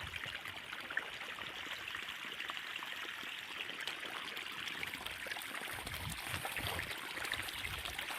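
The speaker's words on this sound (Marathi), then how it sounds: "चाललं आहे आपलं हळूहळू पाणी चाललं आहे" Irrigation water flows slowly through a wheat field, making a steady, soft trickling and gurgling stream that stays at an even, moderate level throughout, with no voices.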